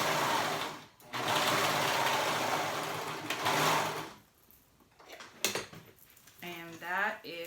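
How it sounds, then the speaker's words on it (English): A serger runs in a long, steady burst as it sews a gap closed on a jumper waistband with elastic. It stops, then gives a few shorter whirring starts as the fabric is handled. "I'm just gonna go in and serge that gap closed that I left open."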